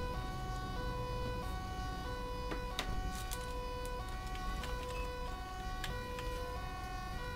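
Wailing ambulance siren in the video game GTA 5, a steady two-tone cycle that repeats over a constant engine and road hum, with a few sharp clicks and knocks on top.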